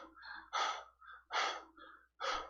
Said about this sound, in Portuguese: Você vai ver ele respirando, ofegando.